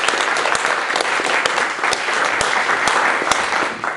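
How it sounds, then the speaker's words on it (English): An audience claps for a speaker named Thorsten and the other presenters at the end of a Pecha Kucha session, a steady, moderately loud round of applause with a few sharp individual claps standing out. "So we just give Thorsten and sort of everybody else a big round of applause."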